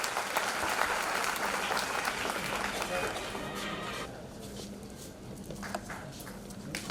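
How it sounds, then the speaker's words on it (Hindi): A crowd claps steadily and loudly throughout at an education award ceremony, a dense wash of applause that thins slightly toward the end. "एक बार जोरदार तालियों से इनका हौसला अफजाई करें"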